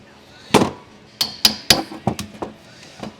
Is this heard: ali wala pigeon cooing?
no